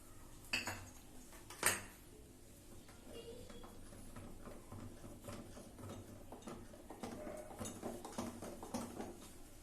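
Cupcake batter being mixed in a bowl with vanilla essence, a spoon clinking and scraping against the dish, with two sharp knocks early on, then steady, soft scraping and tapping.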